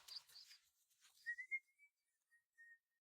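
A person whistling outdoors to call birds, a few thin, high whistled notes that are quiet and sparse, after some brief rustling at the start.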